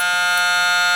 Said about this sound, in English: Now that's a buzzer.